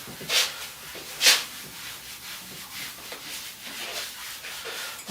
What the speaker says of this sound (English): double hand round rubbing, whether they rub in opposite circles to each other, or I could rub in totally different directions towards each other.